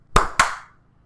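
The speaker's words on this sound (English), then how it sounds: "We have to clap at the same time." Two sharp hand claps land close together and slightly out of sync, each snapping loudly in a quiet room and fading with a short ringing tail.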